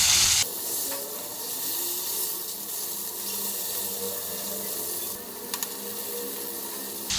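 Tomatoes go into hot oil with fried coriander seeds, producing a continuous broad hiss of frying that stays fairly even, with a louder opening moment and a few faint clicks near the end.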